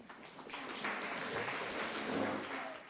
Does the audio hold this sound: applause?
yes